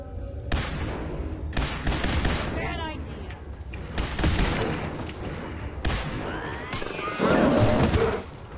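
Assault rifle fire from a Fallout 4 firefight rattles in repeated loud bursts, broken by short pauses and mixed with booming impacts and other game noise, while a voice talks over parts of it.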